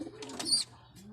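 Racing pigeon just back from a 51-kilometre flight gives a soft, brief cooing call, close by over quiet background with faint chirps.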